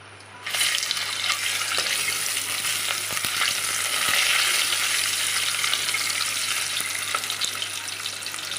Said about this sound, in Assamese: এয়া ভাজি আছোঁ হালধি চালধি দি